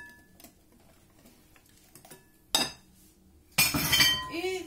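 Keto pancake batter is stirred in a bowl in a home kitchen, with a spoon clinking and scraping against the bowl in short bursts, growing louder and busier near the end.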